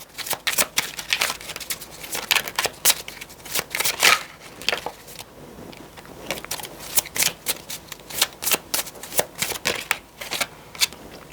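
Tarot cards handled and laid out on a table: dense bursts of crisp card flicks, slides and shuffling taps, close and fairly quiet, with no voice.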